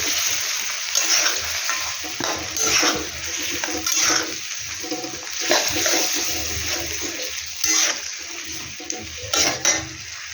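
Chicken frying and being stirred for chicken kosha with chilli paste, a continuous close sizzle with repeated spoon scrapes and clinks against the pot over about ten seconds, no speech.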